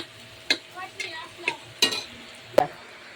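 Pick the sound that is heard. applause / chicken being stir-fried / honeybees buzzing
chicken being stir-fried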